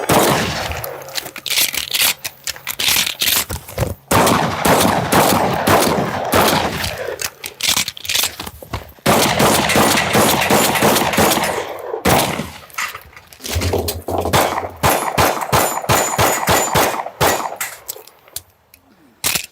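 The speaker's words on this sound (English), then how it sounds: "We'll do a transition over to the pistol and finish up with the plate rack." Rapid gunfire from a 3-gun stage run, loud shotgun slug blasts and quicker pistol shots on a plate rack, coming in dense bursts and strings with brief pauses, close and sharp throughout.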